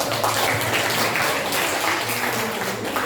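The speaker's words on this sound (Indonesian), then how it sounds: "beri aplaus dulu" A classroom group claps together for a few seconds, dense continuous applause filling the room at an even level from start to finish.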